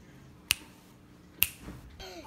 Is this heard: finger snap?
yes